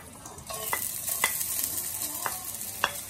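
Finely chopped ginger and garlic fry in coconut oil for a Kerala-style mutton curry, giving a steady close sizzle with a few sharp scraping taps from stirring. No one speaks.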